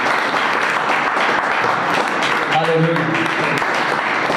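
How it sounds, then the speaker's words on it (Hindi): A church congregation claps together in praise during a worship service, a dense, steady wash of clapping that continues for several seconds while a voice briefly speaks and sings over it. "क्या आप परमेश्वर की महिमा के लिए ताली बजा सकते हैं?"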